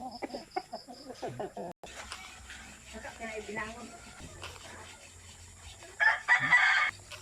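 Chickens cluck close by while a rooster crows loudly near the end, with people talking over the farmyard sounds.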